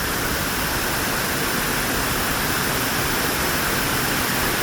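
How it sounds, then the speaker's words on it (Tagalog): Bridal Falls on Kennon Road roars as a steady, loud, unbroken rush of falling water heard up close, with no voices over it. "Tapos yung tubig na bumabagsak"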